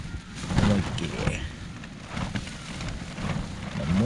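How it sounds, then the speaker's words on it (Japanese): Steady rain falls outdoors on a wet day during a motorcycle touring trip in Hokkaido, a constant close hiss and patter with faint bird calls and brief voices mixed in. "雨雲レーダーは雨のマークないんだけど、降ってる。"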